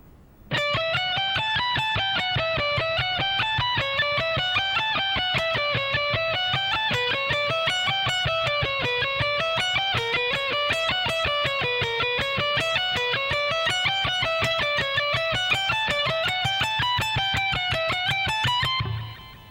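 A distorted electric guitar plays a long speed-soloing lick at slow tempo, an even, continuous run of picked notes that climbs and falls in repeating patterns, loud and steady from start to finish with no talking.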